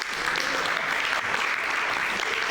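Audience at a comedy and magic show applauding a volunteer called on stage, a dense, steady wash of clapping from many hands filling the room for a couple of seconds, with faint voices mixed underneath.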